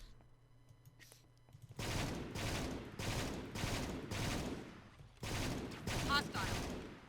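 Battle rifle fire in a Star Wars Battlefront 2 (2005) mod, loud repeated bursts of shots in an even rhythm, about six volleys after a quiet start.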